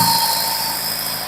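A Farmall 140 tractor engine running steadily close by, a brief, even mechanical drone with a faint whine and no clear change in throttle.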